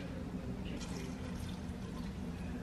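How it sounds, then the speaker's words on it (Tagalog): Water is poured into a salty, vinegar-seasoned dish while cooking, making a steady, close pour and trickle that runs unbroken for a few seconds with no talking. "lagyan natin siya ng tubig"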